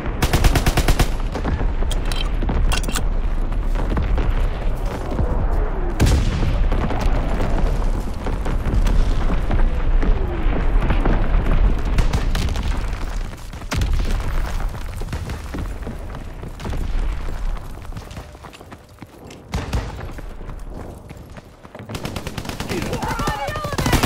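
Artillery barrage in Call of Duty: WWII team deathmatch on a flak tower map: a long dense roll of heavy booms, explosions and gunfire, loud and sustained, with brief lulls and voices under the din.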